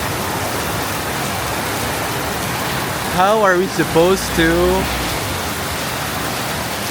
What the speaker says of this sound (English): So it's raining a lot, but we have to go to the market area.